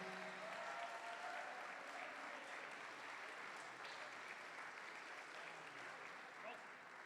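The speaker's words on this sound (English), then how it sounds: "Let's keep that round of applause going for Julia and Andrea Plano." Wedding guests at a Rosewood Farms reception in Elkton, Maryland keep up a sustained round of applause, a steady, even wash of many hands clapping at a distance, with a voice briefly audible beneath it.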